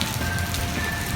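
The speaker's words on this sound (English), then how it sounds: "pouring rain." Pouring rain patters steadily as a dense, even wash that holds for about a second, close and fairly loud, with no voices over it.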